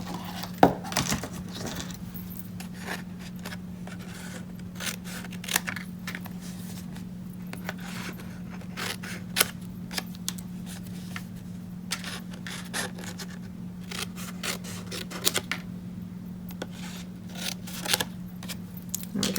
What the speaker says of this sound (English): I'm just going to chop off these 4 corners here with some scissors.